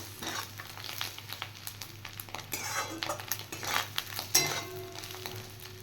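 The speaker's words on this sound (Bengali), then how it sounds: "এবার সামান্য একটু নাড়াচাড়া করে তারপর আমি এটা নামিয়ে দেবো" Fish roe with fried eggplant being stirred in a frying pan, a soft sizzle under irregular scrapes and clinks of a spatula against the pan, fairly quiet and close.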